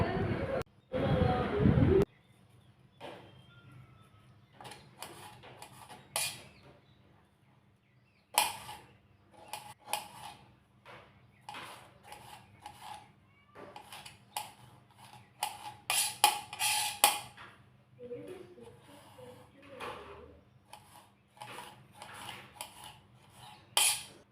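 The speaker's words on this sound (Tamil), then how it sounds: "மாங்காய் வந்து நல்லா கட் பண்ணிவிட்டு சின்ன சின்ன துண்டாக கட் பண்ணி எடுத்துக்கலாங்க" A knife cuts raw green mango into small pieces on a board, giving sparse, faint taps and clicks in an irregular rhythm. A louder clatter comes at the start.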